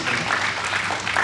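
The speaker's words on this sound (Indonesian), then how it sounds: "Ayo yang percaya berikan tepuk tangan kemuliaan buat Tuhan kita." A church congregation claps in a steady, full burst of applause during a worship service, close and loud for the whole brief moment.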